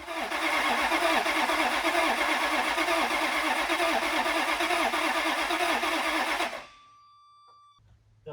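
A hurricane-flooded Ferrari engine cranks continuously with a fast, rhythmic churning that fails to catch, then stops abruptly, leaving near silence and a faint lingering tone.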